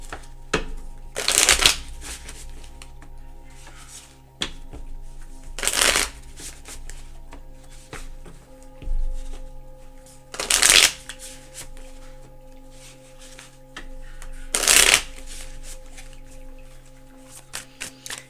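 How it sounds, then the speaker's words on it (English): Tarot cards being shuffled, four loud riffling bursts spaced a few seconds apart over a quiet room background, close to the listener with soft handling noises in between. "let's shuffle this really good."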